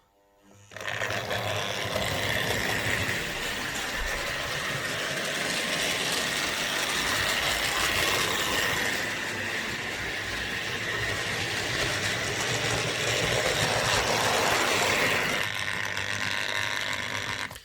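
A Hornby OO gauge model railway locomotive, once clattery with squint wheels, runs around a layout, giving a steady, close whirring clatter that continues almost unbroken with no talk.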